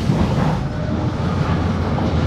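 A London Underground Jubilee line 1996 stock train pulls into Stratford with a loud, steady, close rumble of wheels and motors throughout.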